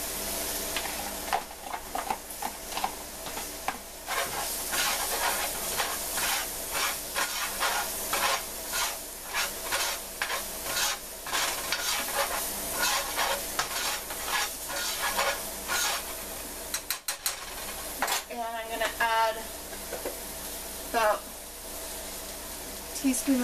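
Onions sizzle and hiss in hot oil seasoned with white pepper, with frequent stirring scrapes over the steady frying; a voice speaks intermittently over the pan.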